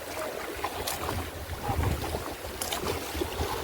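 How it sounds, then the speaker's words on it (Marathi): Fishing boat heading out onto the open sea, wind buffeting the microphone over a low engine drone and the wash of water around the hull, fairly faint and steady throughout. "आणि ते घेऊन चालले आणि होडी आपली निघाली आता"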